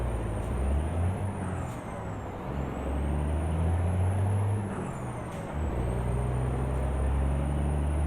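A Freightliner semi truck in American Truck Simulator, its diesel engine droning low and steady while air brakes hiss in sharp releases, with a high whining tone sweeping above and no voices.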